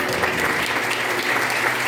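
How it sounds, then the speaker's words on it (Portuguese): A church congregation claps hands together in praise, producing a loud, continuous and even patter of many hands with no break. "E as palmas louvam."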